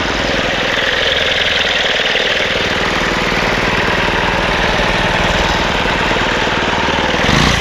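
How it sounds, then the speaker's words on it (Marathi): A farm cutting machine's small engine runs on a cashew farm, a loud, rough, rapidly pulsing drone that holds steady for several seconds and swells briefly near the end. "सुरुवातीला त्रास देते मशीन कारण की बरेच दिवस झाले ना तीन चार दिवस झाले वापरली नाही"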